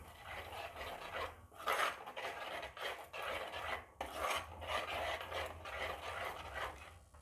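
A spoon scrapes and rubs around a pot of tuna fish curry in two long passes, close and fairly quiet, with no talking.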